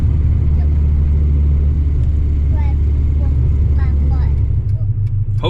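Acura Integra car driving and accelerating, a steady low engine and road rumble throughout with faint chirps and squeaks over it, no talking.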